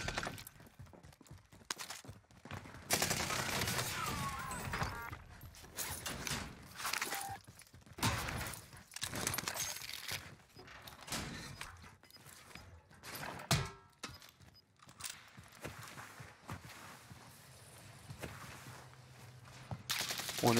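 Gunfire in a Call of Duty Warzone firefight: bursts of shots and sharp cracks scattered through the stretch, some close and loud, others distant, with footsteps, debris and game noise between them.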